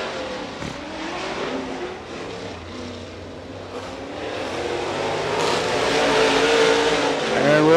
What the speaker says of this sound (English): Next two cars out to be the S14 car of Aaron Wilson